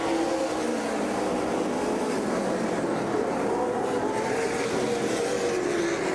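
Super Late Model stock cars racing at Norway Speedway, a steady, dense roar of several engines running together at a distance, constant and unbroken throughout.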